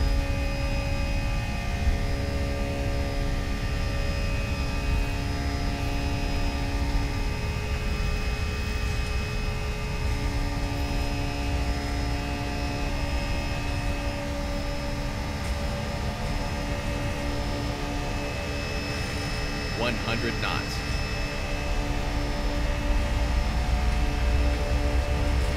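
Airbus A320neo jet engines at takeoff thrust in the X-Plane 11 flight simulator, a steady, dense roar with a droning hum that holds evenly throughout.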